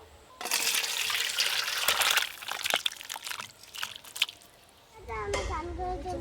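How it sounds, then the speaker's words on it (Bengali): Cooked meat curry with sweet potato is poured and scraped out of a pan, a wet, sloshing, clattering stretch of several seconds, followed by a voice speaking nearby. "মিষ্টি রাঙালু দিয়ে মাংস রান্না হয়ে গেল, এবার ঢেলে নেব।"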